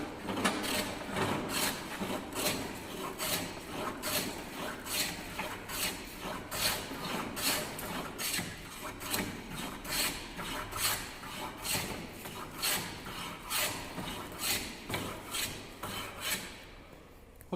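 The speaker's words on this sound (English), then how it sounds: "Okay, so now you can do the planing operation." A hand-held bench plane is pushed along a wooden board in steady, repeated rasping strokes, each pass a short scraping burst with brief gaps, close and fairly loud with no talking.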